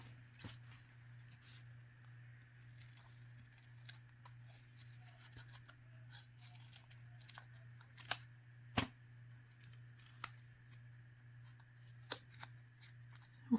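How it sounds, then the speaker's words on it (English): Scissors snip through red paper to cut out a heart shape, making faint, scattered clicks and snips over a steady low hum in a quiet room. "I just want to cut a heart out of this"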